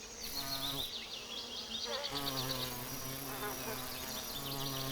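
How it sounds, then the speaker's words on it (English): Bees and other pollinating insects buzz among blankets of spring flowers on the open plains of southern Portugal, several close droning hums rising and falling at once, steady and moderately loud with no talk. "Insects are the most abundant animals here, and they come in every shape and size."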